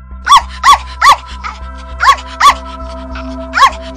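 A pregnant female dog gives a series of sharp, close barks in an uneven rhythm, about eight in four seconds, with a low growl between them.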